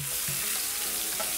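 Onion frying in a hot pan, a steady close sizzle crackling throughout with a faint stir partway through.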